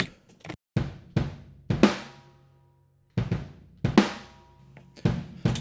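A drum kit played with sparse hits, booming kick and crashing cymbals ringing out in a roomy, ambient space between strikes.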